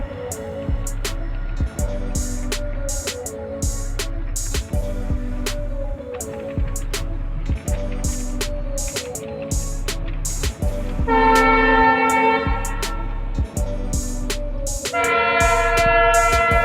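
Passenger train with coaches rolling past near Cooch Behar: loud, steady rhythmic clacking of wheels over rail joints, joined by two blasts of a harmonic train horn toward the end.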